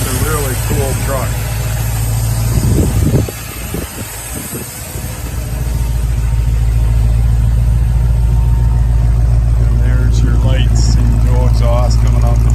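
A custom Ford Bronco with an aluminum radiator and cooling fan idles steadily at the rear with a low, constant exhaust rumble, while people talk over it at times.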